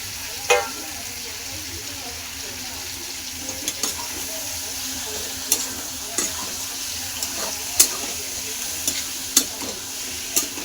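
Mutton frying in a pan for a spicy mutton thali, heard as a steady close sizzle with sharp clicks and spatula scrapes recurring every second or so, with no talking.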